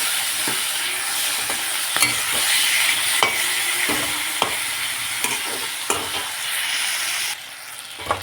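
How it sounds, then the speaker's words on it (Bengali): Shrimp fry in oil in a blackened wok, with a steady crackling sizzle broken by sharp clicks and scrapes of a spatula stirring against the metal; close and fairly loud, with no talk. "চিংড়ি মাছগুলোকে ভেজে নিলাম"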